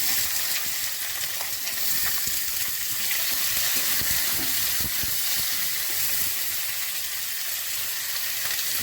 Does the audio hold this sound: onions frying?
yes